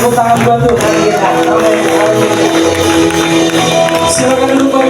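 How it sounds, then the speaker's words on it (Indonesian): Church congregation at a Sunday service clapping and cheering together, a loud sustained crowd sound with tonal music or singing running underneath throughout. "Berikan tepuk tangan buat Tuhan kita."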